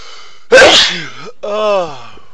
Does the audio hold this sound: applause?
no